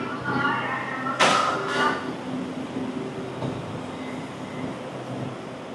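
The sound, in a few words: metro train running to Ben Thanh, Vietnam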